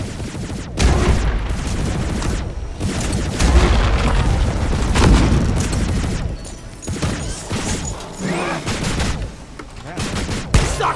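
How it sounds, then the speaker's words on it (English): Shotgun blasts go off in Deep Rock Galactic as a string of loud, sharp booms at uneven intervals, with smaller rapid impacts and voices in the gaps between shots. "Shotgun has a new sound too, and a new everything."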